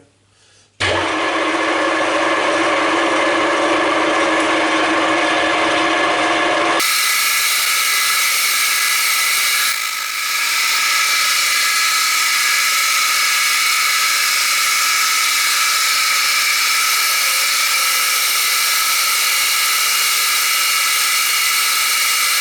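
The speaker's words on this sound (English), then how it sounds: "And of course, drill and tap a few holes in here." A loud, steady whine of a drill boring holes into a metal table support runs without pause, shifting partway through to a sharper, higher-pitched grinding tone.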